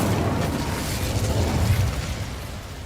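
A fire spell is cast in the wizarding game Hogwarts Legacy, a sustained rushing, booming burst of flame with a low rumble that swells and then trails off slightly toward the end.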